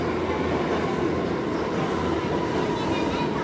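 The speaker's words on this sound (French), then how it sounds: "on est dans le métro pour aller au quartier Financial District" A New York subway train rumbles steadily along the tracks toward the Financial District, a loud continuous roar with faint squeals, heard from inside the car.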